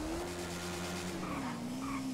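A motorcycle engine holds a steady droning tone, then drops in pitch as it downshifts and engine-brakes, fairly quiet beneath broad road and wind noise.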